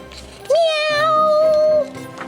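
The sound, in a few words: kitten meowing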